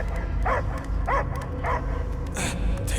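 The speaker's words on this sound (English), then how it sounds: "I hear only barking." Dog barking in the Guardians of the Galaxy video game, three evenly spaced barks over a low rumbling game soundscape, with a higher yelp near the end.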